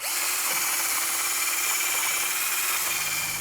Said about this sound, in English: take a wire brush or a grinder and just take some of the surface rust off